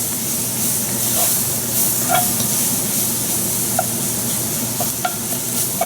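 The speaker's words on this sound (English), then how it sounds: "We'll let it sweat for a couple of minutes." Chopped vegetables for shrimp étouffée sizzle and hiss steadily in a hot pan, with occasional soft stirring clicks and pops close by.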